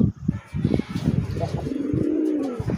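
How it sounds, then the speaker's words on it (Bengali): Native Deshi pigeons, kept for sale in Manikganj, coo in a continuous low, throaty series, near and steady, with a few faint chirps around them. "ডাকের রাজা, দেশি কবুতর"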